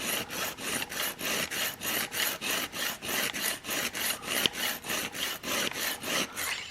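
Sharpening a Zwickey-style four-blade broadhead with bleeder blades, a quick, even rhythm of about twenty rasping file strokes, close and fairly quiet, with no voices.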